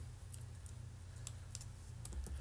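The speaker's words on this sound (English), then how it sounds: "So basically, I can be typing stuff like," Quiet typing on a computer keyboard into a notepad, a scatter of light key clicks over a steady low hum.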